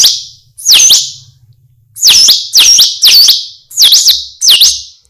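A folk sound-effects artist imitates a cuckoo calling, producing loud, close, sharp whistled chirps: one, then a pause, then a rapid run of six repeated calls.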